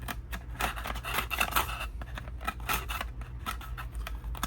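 A small box cutter carves a bevel into a piece for a lava rock diorama, giving close, crisp scraping and snipping strokes in an irregular series, with no voices.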